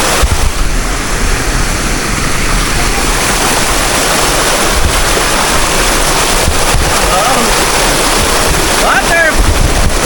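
A waterfall at a farm in San Jorge, Samar, gives a steady, loud broadband rush of falling water that fills the whole clip, with wind buffeting the microphone.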